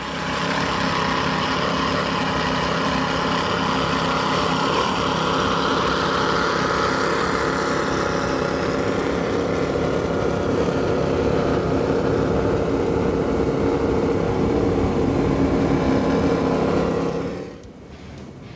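An Outer Limits powerboat roars at a Key West poker run, its engine a steady, loud, continuous drone that holds for most of the stretch before fading away at the end.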